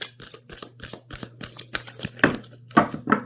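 A deck of playing cards is riffled and bridged close up, a run of quick crisp flutters and snaps in short bursts, louder toward the end, with a steady low hum underneath.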